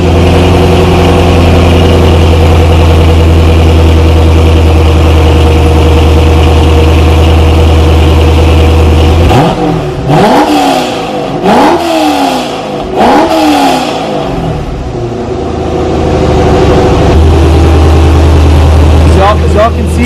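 A C5 Corvette Z06 fitted with a stock 5.3 Chevy truck V8 idles with a steady low rumble, then revs up in three quick throttle blips before settling back to idle, heard close with a voice talking over part of it.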